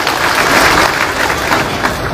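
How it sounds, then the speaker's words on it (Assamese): A seated audience at a sub-district inauguration ceremony claps in a dense, continuous burst of applause, loud and close. "তাৰ কাৰণে মোদীজীৰ কাৰণে এটা ডাঙৰ হাত চাপৰি সকলোৱে ধন্যবাদ দিব লাগে"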